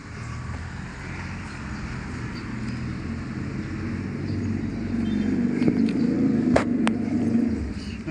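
A van passes on a street with a low rumbling engine that swells louder in the second half, with a couple of faint sharp clicks near the end.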